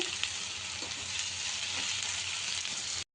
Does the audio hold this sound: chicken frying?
yes